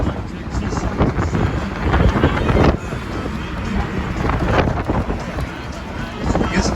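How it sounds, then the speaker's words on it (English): Strong wind gusts buffet the microphone outdoors on an Austin duck boat tour, a steady roaring rush with louder bursts, close and loud, while a voice talks over it. "It's a little bit windy out here."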